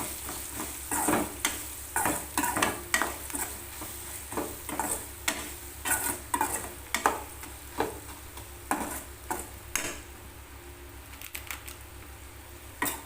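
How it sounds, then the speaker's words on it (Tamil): Okra frying with chili powder in a pan, with rhythmic scraping stir strokes over a steady background sizzle, close and moderately loud, no talking. "நல்லா பொரிச்சு எடுத்துக்கலாம் இப்போ நல்லா பொரிஞ்சிருச்சு"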